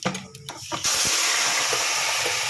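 A short clatter, then a sudden loud burst of sizzling as amaranth leaves hit hot oil tempering with fenugreek powder, settling into a steady, close hiss.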